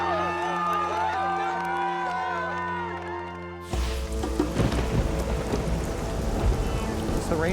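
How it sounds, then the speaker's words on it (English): Rainy-season rain in the Pacific Northwest comes in abruptly after a musical passage, a dense steady patter on surfaces mixed with low rumbling, fairly loud and continuous. "Rainy season here in the Pacific Northwest, so we're dealing with lots of weather"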